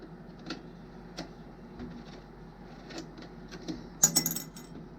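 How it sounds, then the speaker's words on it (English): Small metallic clicks and ticks of screws being undone on an Aillio Bullet R1 coffee roaster, scattered sparse taps close up with a brighter clink near the end, no talking. "Now we're going to undo the screws."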